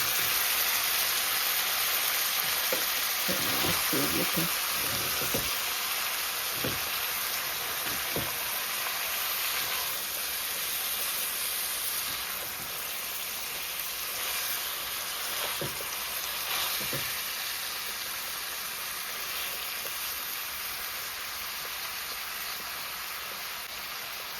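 Ackee and saltfish sizzling steadily in a hot pan, with a spatula scraping and stirring through it at intervals; continuous close frying hiss throughout, no talking.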